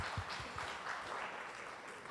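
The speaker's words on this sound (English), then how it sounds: "Please give a round of applause." Audience at an international law conference applauds after a lecture, a faint, steady wash of clapping from a distant crowd.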